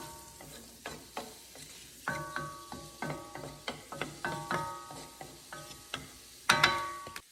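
Food browning and sautéing in a pan for refried beans, heard as a run of soft, rhythmic scraping and stirring clatters with faint sizzle beneath, fairly close, building to a louder clatter near the end, with no talking.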